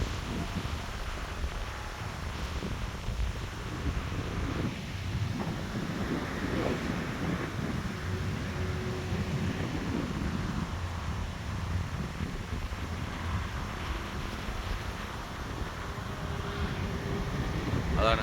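Wind gusting over Königssee lake near the Austrian border in Germany on a cold day, a steady low rumbling buffet on the microphone lasting the whole stretch, with faint water and distant traffic under it.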